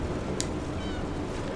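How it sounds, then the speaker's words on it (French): Cat meowing in the video game Stray, a brief meow set against a steady dense background of game sound. "Miaou."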